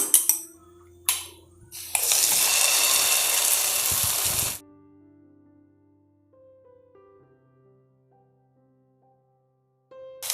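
Omelette batter is poured onto an oiled tawa and hits with a loud, steady sizzling hiss lasting a few seconds, then falls away to quiet as faint kitchen tones linger.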